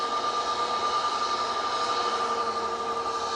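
An EasyJet airliner on final approach at Manchester Airport, a steady distant engine whine with a high tonal hum holding evenly throughout, no voices over it.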